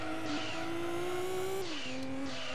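A Nissan Skyline GT-R, a Mines-tuned version with over 600 hp, accelerates in the racing game Gran Turismo 2. Its loud, steady engine tone climbs, dips at a gear change and climbs again, with no talking.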